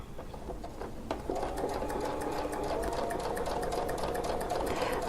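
A sewing machine stitches a quilt, its motor starting softer and then running as a steady, fast, close mechanical whir with a rapid needle rhythm and no talking.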